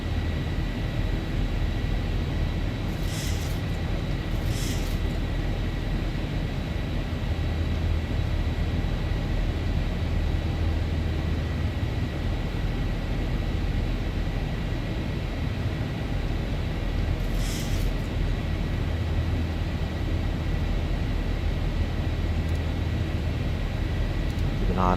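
A LOT Boeing 737-800 climbing out on takeoff on a Warsaw to Thessaloniki flight: a steady, loud cabin roar fills the whole stretch, with a few faint clicks and rattles on top.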